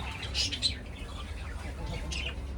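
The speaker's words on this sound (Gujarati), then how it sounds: "અહીંયા આગળ બહુ મસ્ત પોપટ છે" Bright parrot chirps and squawks ring out in short bursts over steady low background rumble, fairly close, with no talking.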